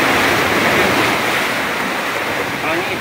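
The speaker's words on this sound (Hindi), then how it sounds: "पानी इतना ज़्यादा तेज है" Fast-flowing river water at a fishing spot in Karachi, a dense, steady roar of rushing water heard close and loud throughout with no breaks.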